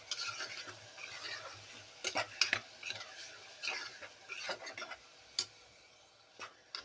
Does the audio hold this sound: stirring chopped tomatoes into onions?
yes